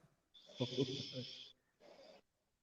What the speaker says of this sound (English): about to let this dude snore for a minute